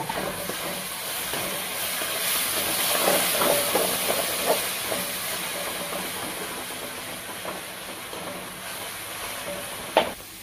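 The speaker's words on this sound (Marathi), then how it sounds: "आपण कांद्याची, खोबऱ्याची आणि लसणाची जी पेस्ट केली आता ती टाकून घेऊया। थोडं भाजून घेऊया ह्याला।" Onion, coconut and garlic paste roasting for a hotel-style sev bhaji gravy, a continuous hissing sizzle with soft stirring scrapes that rises and falls, ending in a sharp clink, with no voices.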